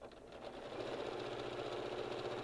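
A sewing machine runs steadily as it stitches a corner of fabric for a doll, a continuous close mechanical whir that builds in the first half second and then holds even, with no voices.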